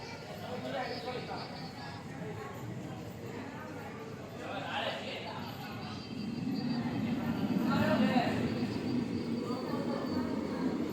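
A train pulling away from Raichur, its low rumble slowly building and growing heavier, with indistinct voices murmuring in the background.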